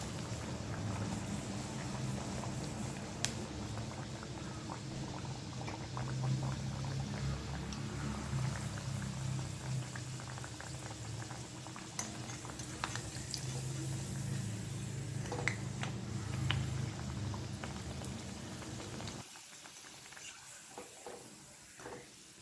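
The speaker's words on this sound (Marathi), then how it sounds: "याला छान गोल्डन रंग येईल तोपर्यंत आपल्याला या तळून घ्यायच्या आहेत कचोऱ्या" Tur dal kachoris deep-frying in hot oil, a steady close bubbling hiss with soft crackles that holds for most of the stretch, then drops away sharply near the end.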